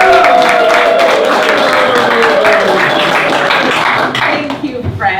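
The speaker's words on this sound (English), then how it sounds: "let's hear a round of applause" Audience applause and some cheering at a tech talk on Solana and web3, a steady wash of clapping from a crowd that carries on for about four seconds before thinning out at the end.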